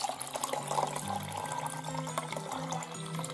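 Cold water pours steadily into a container for jelly, a continuous gurgling splash with a rising fill tone.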